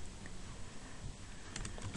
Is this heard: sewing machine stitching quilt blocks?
no